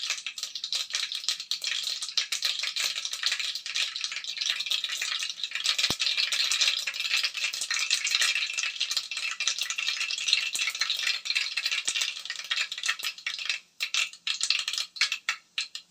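Mustard seeds sizzle and crackle in heating oil for a tempering, a steady dense hiss with scattered pops close by that thins out near the end.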